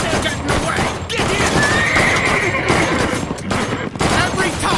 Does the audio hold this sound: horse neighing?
yes